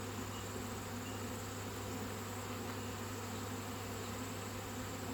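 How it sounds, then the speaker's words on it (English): Honeybees buzz around an open hive during an autumn inspection, a dense continuous drone with a steady hum underneath, fairly close and uniform, no talking. "But I still don't feel anxious about these bees. They're a bit noisier."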